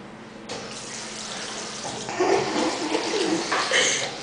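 Several sink faucets running in a Walmart Supercenter restroom, a steady broadband hiss of water that swells as more taps open, close and fairly loud, with faint voices underneath.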